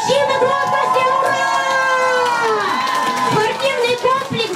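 A crowd at the opening of a sports complex shouts a long, loud, sustained hurrah together, with voices rising and then breaking up into scattered shouts and chatter.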